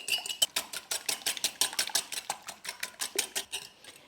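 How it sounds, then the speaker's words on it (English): Rapid, steady clinking of a whisk beating eggs against a bowl, about four strokes a second, close and fairly loud with no talking. "I've got my eggs and I'm just going to give them a quick whisk"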